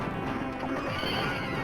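A horse neighs in the arcade game Knights of the Round, a faint whinny mixed into game sounds with no voices over it.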